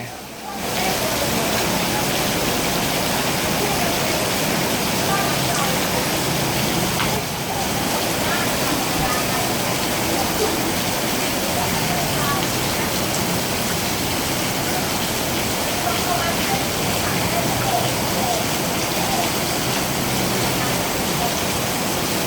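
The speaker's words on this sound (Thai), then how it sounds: "มันเป็นแบบมีน้ำเยอะครับ ฝนตกน้ำเยอะ" Heavy rain pours down in front of Surin railway station in Thailand, a dense, unbroken roar of water, loud and steady throughout with no pauses.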